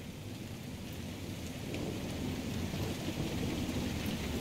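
Steady rainfall in the rainy Crestwood area of Dragon Age: Inquisition, a dense hiss over a low rolling rumble of thunder that swells partway through and then holds, with no voices.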